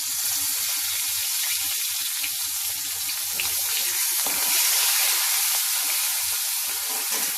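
Steady frying hiss and crackle of green chili and curry leaves fills the clip, loud and close, with low sputtering pops scattered throughout and no talking.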